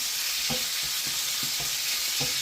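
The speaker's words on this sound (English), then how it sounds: "So I want to sear everything first." Pork sears in a hot pan for a pork and apple cider casserole, a steady close sizzle broken by soft, regular scraping taps of a utensil stirring the meat.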